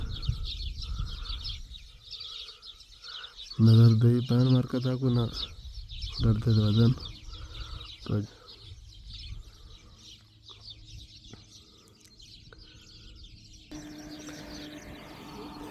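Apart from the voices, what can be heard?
many sparrows chirping in a tree by a wheat field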